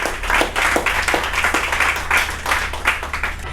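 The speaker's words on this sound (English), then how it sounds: "give a nice big warm welcome and a nice round of applause for Melissa C. Williams" Audience at a live open-mic event breaking into a round of applause, many hands clapping steadily and fairly close for a few seconds without letting up.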